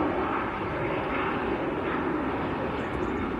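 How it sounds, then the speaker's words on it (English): Jet2 airliner bound for Paphos passing over Manchester Airport, a steady broad roar of engines heard from a distance with no talking. "That is Jet2 to Paphos."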